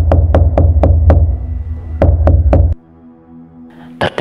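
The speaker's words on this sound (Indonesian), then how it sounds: "terdengar ketukan keras di pintu rumahnya" Loud, sharp knocking on a house door at night, a quick run of about five hard raps, a pause, then three more, followed by a quieter stretch and a couple of brief knocks at the end.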